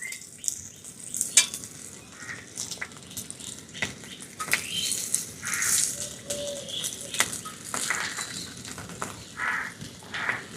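Boiled potatoes being mashed by hand in a hot pan with lightly fried ingredients, giving a steady close sizzle with soft squishing and scattered clicks and rattles throughout, no talking.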